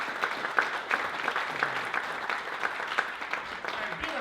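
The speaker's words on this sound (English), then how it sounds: "Oh, give the Lord a hand clap." A church congregation claps for the Lord, a steady patter of many hands with a few sharp louder claps, mixed with crowd voices throughout.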